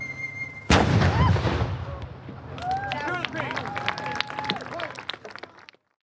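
A ceremonial cannon firing once with a sudden loud boom that rolls off into a long echo, followed by a crowd cheering, clapping and talking.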